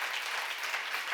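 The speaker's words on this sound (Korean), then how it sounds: "믿는 사람만 박수 쳐봐요." Brief burst of continuous clapping from a church seminar audience, moderately loud and dense, with no voices over it.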